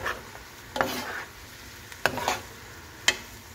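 Kimchi fried rice stirred in a pan, a soft sizzle broken by three or four sharp scraping spatula strokes at an uneven pace, close and quiet, no talk.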